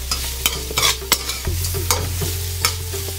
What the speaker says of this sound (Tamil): சேர்த்துட்டு நல்லா இந்த எண்ணெயில் ஒரு பரட்டை பட்டி விட்டுருங்க.